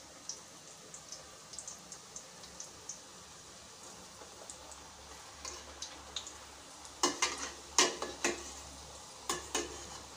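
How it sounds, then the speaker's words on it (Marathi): Puris for motichur ladoo deep-frying in hot oil over a medium flame, a soft steady sizzle with scattered light crackles and pops that grow louder and sharper near the end. "आता गरम तेलामध्ये ह्या पुऱ्या ज्या आहेत तळून घ्यायच्या आहेत।"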